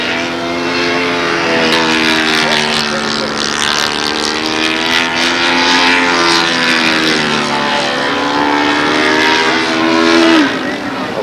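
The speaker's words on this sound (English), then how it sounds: "The big 4-stroke shuts right off." A large four-stroke model aircraft engine runs at the 2004 model flying world championships, a loud continuous droning buzz whose pitch wavers and rises and falls, swelling toward the end.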